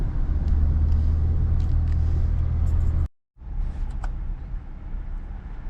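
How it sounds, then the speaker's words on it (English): Cars crawl in near-standstill traffic at busy Cades Cove, Tennessee, with a continuous low engine rumble, a brief dropout midway, and then the idling drone again with faint clicks. "Stuck in almost standstill traffic at the moment."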